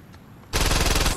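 A gun in Saints Row 2 fires a loud, rapid automatic burst that starts abruptly after a quiet half second and rattles on close and steady.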